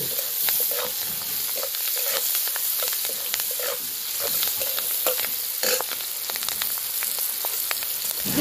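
Spring onions fry in a pan with salt, turmeric and chilli powder, giving a steady close sizzle. Frequent scrapes and clicks from stirring sound throughout, with no voices.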